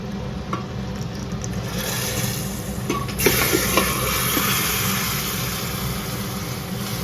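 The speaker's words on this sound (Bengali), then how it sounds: "ডালে দেওয়ার ফোড়নও রেডি এবার এটা জাস্ট দিয়ে দেবো ডালে" A tempering of spices and hot oil poured into boiled dal, giving a loud, dense, continuous sizzle that swells about halfway through and stays steady to the end, with no talking.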